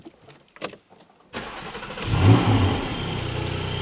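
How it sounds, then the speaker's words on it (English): Porsche 718 Cayman GT4 4.0 manual on a cold start: a few quiet clicks, then the engine fires with a sharp loud catch, a brief rev swelling up and settling into a steady, close idle. "let's fire it up and listen."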